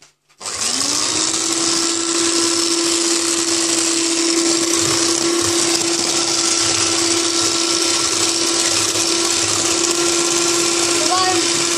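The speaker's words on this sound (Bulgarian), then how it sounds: "И така сега продължавам да бъркам." An electric mixer whirs steadily as it beats chocolate muffin batter, a loud continuous motor drone with a constant pitch that starts abruptly and runs unbroken to the end.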